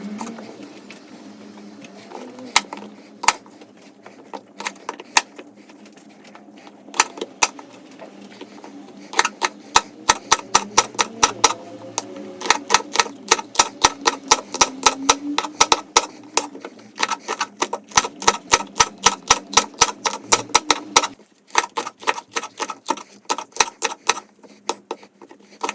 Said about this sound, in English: Also slice green pepperoni.